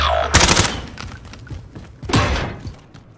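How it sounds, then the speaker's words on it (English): Gunfire in a shooter video game, two loud bursts of rapid shots with thuds about two seconds apart, trailing off between volleys. "The bastards are shooting at me."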